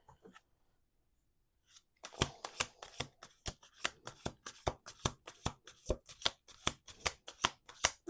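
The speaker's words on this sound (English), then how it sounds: "2 more shuffles." Tarot cards being shuffled by hand, a run of crisp rapid riffles and slaps after a short quiet start, close and fairly soft.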